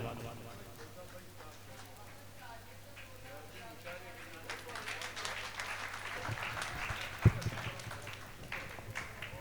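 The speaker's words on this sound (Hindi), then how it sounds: "आप तालियां बजा करके इस्तकबाल कीजिए डॉक्टर दिलशाद गोरखपुरी से" Audience applause welcoming poet Dr Dilshad Gorakhpuri at an international mushaira in Gorakhpur, a steady crowd clapping that swells louder in the second half, with a sharp knock near the end and voices murmuring underneath.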